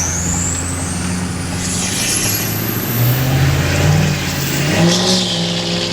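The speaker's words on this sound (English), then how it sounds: "Let's go ahead and take it for a quick drive." Tuned diesel pickup truck with VGT turbos and a 10-speed transmission driving, a loud close engine drone with rising turbo whistle and shifting engine tones as it accelerates, no talking.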